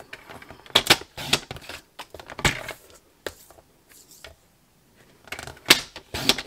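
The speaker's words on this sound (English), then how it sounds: "So I'm going to get my piece of Whisper White and cut that to fit." Whisper White cardstock being cut to size for a layered gnome card, a series of crisp, sharp paper-trimming strokes in separate bursts with short pauses between, close and fairly quiet.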